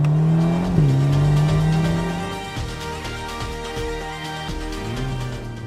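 The V8 engine of a Ferrari Portofino M revs loudly and close, a deep sustained drone that climbs, then settles into a lower rumbling idle with fluctuating pitch.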